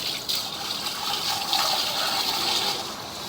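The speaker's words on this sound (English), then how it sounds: "I'm going to put some water down the drain here" Water pouring down a drain clean-out pipe at a house, with ABS plastic drain line, a steady rushing gush with no pauses, fairly close and alone.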